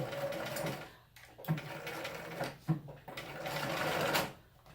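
A sewing machine stitches a fabric lining onto the outer fabric of a pencil case, running in steady bursts with brief pauses and a short reverse of a couple of stitches, close and moderately loud.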